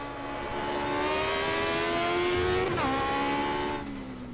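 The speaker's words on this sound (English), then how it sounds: "You really hear the engine being used to its maximum. And kind of screaming at the top of its voice." An Aussie racing car in the Automobilista sim game at Adelaide screams at high revs, climbing steadily through the gears with a sharp shift near the end, loud and continuous with no talk.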